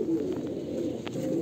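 A short burst of close, low cooing from Andhra Kalanka pigeons in a female loft, the soft burbling calls steady and unbroken.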